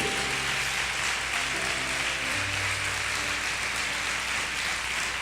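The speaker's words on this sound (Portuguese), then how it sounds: "Dá uma salva de palmas para ele, bem forte." A church congregation applauds loudly and continuously, a dense steady wash of clapping hands with a few faint sustained musical tones underneath and no speech.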